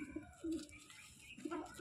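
An Andhra (Chennai breed) pigeon gives quiet, close, throaty coos in a rhythmic run of repeated low notes, soft in level with no voices present.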